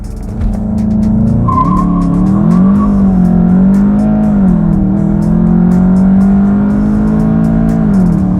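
A Volkswagen Jetta GLI launches hard from a standstill using launch control, engine roaring loudly and rising in pitch as it accelerates, with brief tire noise at the start.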